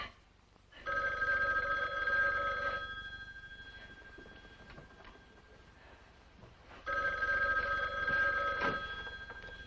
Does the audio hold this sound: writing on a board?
no